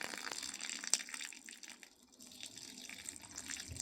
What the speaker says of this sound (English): There's very much water coming out of that line.